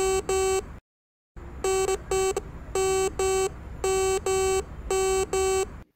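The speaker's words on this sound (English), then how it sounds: "If the signal is issued by a non-precious metal, the device will sound in a different tone" The TITAN 400 metal detector signals a non-precious metal with repeated electronic beeps, bright and loud, coming in paired and grouped bursts with one brief silent gap and a faint steady hum underneath.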